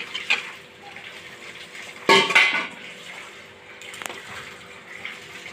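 Water poured into a pan of fried mustard paste, a sudden loud splash and sizzle burst with clattering near the middle, then settling into a softer bubbling over quiet kitchen background.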